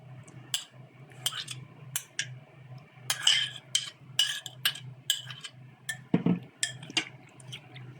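A spoon stirs and tosses salad ingredients for hawawshi in a bowl, giving sparse clinks and scrapes at an uneven pace, close and fairly quiet over a low background hum.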